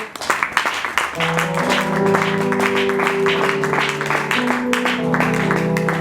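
A church congregation at a pastors' consecration service applauds and cheers, with a dense wash of clapping and shouting over sustained keyboard or organ chords and a voice talking through it.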